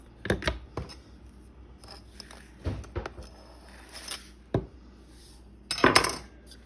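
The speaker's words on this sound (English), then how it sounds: "Again, scooping in, leveling off." A cup of sugar scooped from a canister and levelled off, heard as scattered close scrapes, gritty rustles and sharp clinks of utensil on container, with quiet gaps between them.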